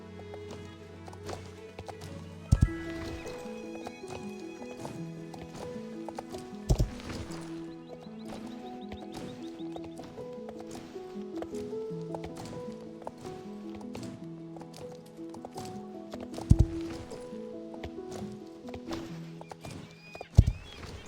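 A horse in the Star Stable video game canters and gallops in a fast, steady clip-clop hoof rhythm, heard alongside looping melodic game music with occasional sharp accents.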